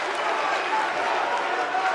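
Arena crowd in the WWE 2K18 wrestling game cheering throughout a no-holds-barred women's match, a dense, steady roar of many voices with clapping, loud and continuous.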